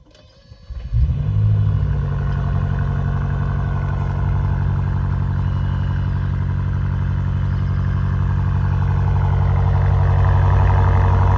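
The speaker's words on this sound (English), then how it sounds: "it has a really nice, bassy rumble with a slight pop" A 2026 BMW M5 Touring G99, 718 hp, starts up and settles into a loud, steady, bassy exhaust rumble close by, running alone without talk.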